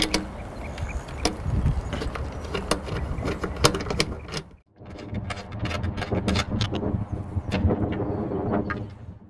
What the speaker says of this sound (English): You'll need a slotted screwdriver or a 10 millimeter socket like I'm using.